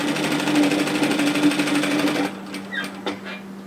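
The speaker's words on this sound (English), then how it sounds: "So what we're going to do is sew at 1 centimetre." A sewing machine runs steadily for about two seconds while stitching a 1 cm seam on a bomber-style varsity jacket, then stops and leaves a few light clicks. The whirring is loud and close, with no talking.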